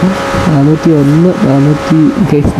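McLaren Senna supercar engine droning at very high speed, a steady, loud rising-and-falling roar heard under continuous close talk.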